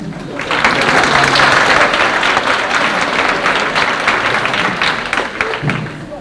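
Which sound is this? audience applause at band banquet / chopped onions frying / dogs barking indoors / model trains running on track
audience applause at band banquet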